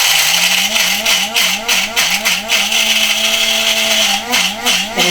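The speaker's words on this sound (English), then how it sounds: "we're going to put that many, it's about 2 ounces, into your coffee grinder" About two ounces of almonds whir loudly in a coffee grinder, a close, continuous high-pitched motor whine that wavers and shifts pitch as the nuts break down into fine powder, with no talking.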